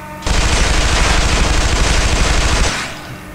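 Rapid automatic weapon fire from a first-person shooter, Interstellar Marines, a loud continuous burst of about two and a half seconds with a steady rattling rhythm, close and dominant, then cutting off into a faint tail.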